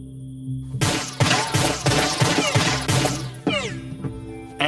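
Gunfire in the 3 Minutes to Midnight video game: a rapid string of loud shots fired in quick succession, each with a sharp crack and ringing tail, followed by a brief pause, then a lingering ricochet-like whine.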